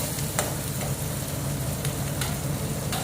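Rava upma ingredients are stirred in a hot pan, with a steady frying sizzle broken by repeated scraping strokes of the spoon, close and loud.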